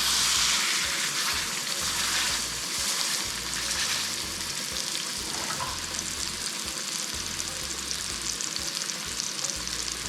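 Pork searing in about a tablespoon of hot oil in a pan for Cuban-style pulled pork, a continuous close sizzle and crackle that holds steady throughout with no talk.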